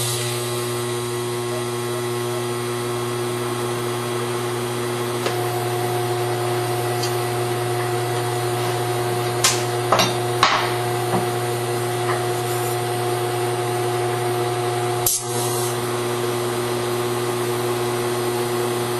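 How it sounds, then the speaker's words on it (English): Tubular steel control arms for an S10 being welded at the ends: a steady, loud electric hum, likely from the welder, runs throughout, broken by a few sharp crackles and clicks. "What we're going to do first is we're going to weld the ends on all four sides, and then we'll come back and weld the complete underside."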